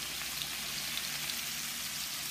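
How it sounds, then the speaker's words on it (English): Broccoli and carrots sauté in a pan for a home-cooked dinner, making a constant close sizzle like light rain, with no voices. "So I'm just kind of sauteing some broccoli and carrots"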